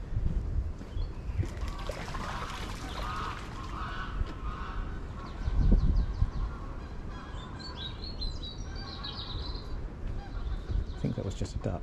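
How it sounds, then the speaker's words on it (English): A duck calls at the waterside in a busy outdoor setting, its honking bursts scattered over steady background noise and nearby chatter. "I think that was just a duck."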